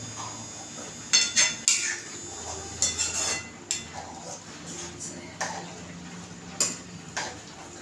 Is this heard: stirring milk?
yes